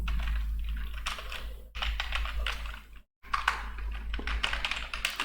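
Typing on a computer keyboard while entering data in Tally Prime accounting software: close, clattering bursts of keystrokes with a brief pause midway, over a low steady hum, with no talking.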